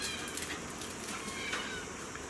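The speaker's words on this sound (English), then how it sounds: "This is our cat Puss" A pet cat named Puss meows in a rural home, a soft, close, drawn-out call over a steady wash of rain noise with no talk.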